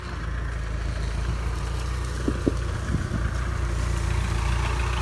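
An RT140 engine on an i-taen farm truck idles nearby with a steady, low, continuous rumble and no voices over it.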